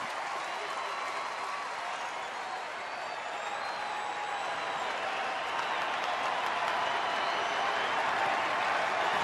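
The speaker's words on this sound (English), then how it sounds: "the crowd trying to cheer him on" A baseball crowd applauds and cheers in a steady, dense wash of clapping and noise that holds at an even level throughout, with no distinct voices.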